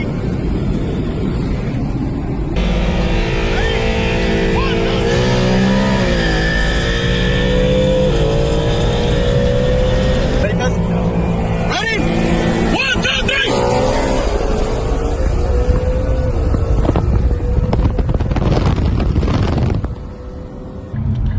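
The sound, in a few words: Infiniti Q50/Q60 VR30 car accelerating at launch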